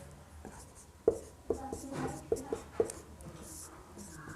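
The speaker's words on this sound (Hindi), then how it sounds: "तो यहाँ पे हम लिख देते हैं" Chalk tapping and scratching on a board during a Class 12 maths lecture: several short distinct strokes and taps in an uneven rhythm, close by, with a little quiet speech in the room.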